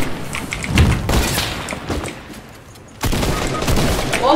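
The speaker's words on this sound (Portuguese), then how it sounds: "Nossa, e tiro já." Fortnite gunfire in loud, jumbled bursts, with one heavy burst near the start and a second dense volley breaking out after a short lull, all close and alone.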